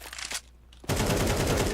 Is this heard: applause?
no